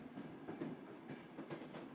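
A passenger train on the West Highland Line crosses the River Lochie. Its wheels give a faint, steady rumble with soft repeated clacks, heard from inside the carriage and fairly distant.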